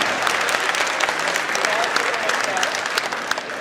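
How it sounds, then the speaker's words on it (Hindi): An audience at a Hindi hasya kavi sammelan comedy poetry show claps steadily in loud, dense applause that fills the whole stretch without letting up. "ताली कमजोर है आपकी।"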